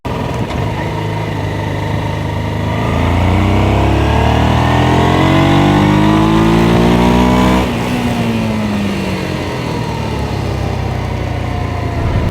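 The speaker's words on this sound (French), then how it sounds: "Alors, est-ce que la Deauville, elle accélère?" A Honda 700 Deauville motorcycle engine revs up, climbing in pitch through the gears, loud and close, then eases off into a steady drone.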